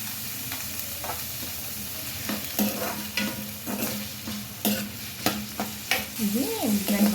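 Onions and curry leaves frying and sizzling in a pan for an eggplant and potato curry, a steady soft hiss broken by scraping stirs and clinks of a spoon, close up with no talking.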